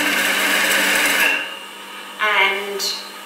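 A sewing machine stitches curtain heading tape onto pencil pleat curtains, a steady close-up mechanical whir that stops partway, followed by a short burst of motor whine.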